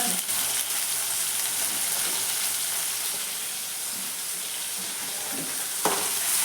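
Curry leaves, potato and tomato sizzling in a hot tempering, a loud, dense, crackling fry hiss that holds steady throughout, with a brief clatter near the end.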